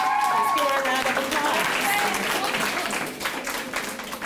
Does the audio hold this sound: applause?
yes